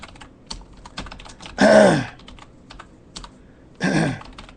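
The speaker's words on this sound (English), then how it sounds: "sorry, I'm typing." A computer keyboard is typed on nearby with scattered light key clicks, broken twice by a brief louder vocal sound or cough-like noise.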